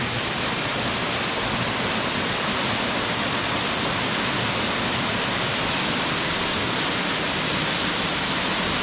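Flowing water driving a water-powered prayer wheel at Muktinath Temple in Nepal, a dense, steady rushing hiss that holds constant and fairly loud throughout, with no voices.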